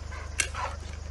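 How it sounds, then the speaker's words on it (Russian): A guard dog watching over a litter of small puppies gives a single short, faint bark, followed by a softer whimpering sound, over a steady low electrical hum. "собака на охране"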